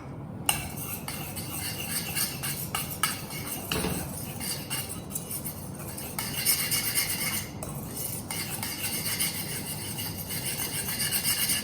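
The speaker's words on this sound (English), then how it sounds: "You can take a whisk and do it." Mango kadhi mixture being whisked: a steady, continuous scraping and swishing that holds at an even moderate level throughout, with occasional brighter strokes and no voices.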